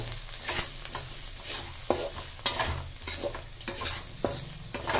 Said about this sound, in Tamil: நல்லா மிக்ஸ் பண்ணிட்டு